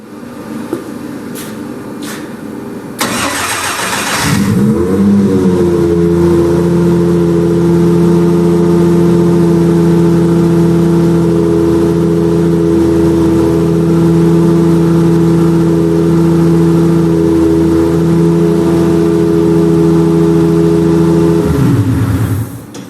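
1JZ-based V12 twin-turbo engine cranking and catching after a few clicks, then settling into a loud, steady, rumbling run that holds for about fifteen seconds before cutting off.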